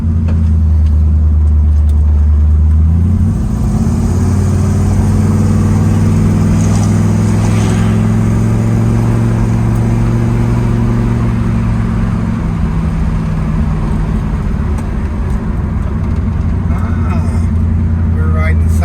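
A 1966 Ford Mustang drives in second gear, its engine a loud, steady low drone close up, with the pitch shifting slightly as it runs on. Someone talks over the engine.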